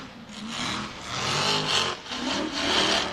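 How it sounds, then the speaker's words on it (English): A rear-mounted race engine roars and surges in waves from a short distance at an NRRA Mickey Thompson Finals race, its rough exhaust note rising and falling as it passes. "That exhaust sounds incredible."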